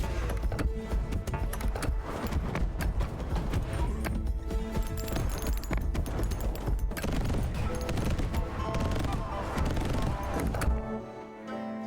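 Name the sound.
mortar firing in the video game Wanderberg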